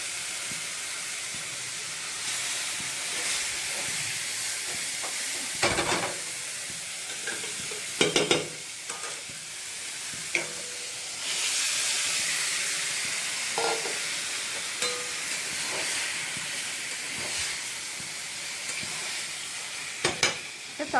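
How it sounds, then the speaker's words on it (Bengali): Curry is added to fried spices in a pan, setting off a steady, close hissing sizzle that runs throughout, broken by occasional scrapes and knocks from stirring. "মশলাটা ভেজে তারপরে তরকারিটা দিয়ে দেবো এখন।"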